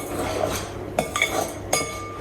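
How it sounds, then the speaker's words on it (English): A butter knife scrapes around the edge of a bowl and cuts through scone dough, giving soft scraping with a few light metallic clinks against the bowl, close up and without talk. "taking your butter knife and scraping around the edge of your bowl and then cutting through the center"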